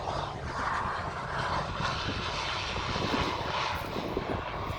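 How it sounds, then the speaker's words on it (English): An airplane lands close to a rural hangar home under construction, its engine making a continuous loud broadband roar that holds steady for several seconds. "here we can watch a plane land."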